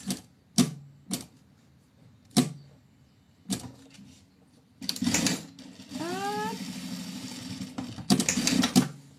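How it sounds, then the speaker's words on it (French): A sewing machine stitches the seam of a fabric pouch: short mechanical clacks at first, then a longer whirring run of stitching with a brief rising whine, close by and without speech. "On va venir coudre entre les jonctions face dessous."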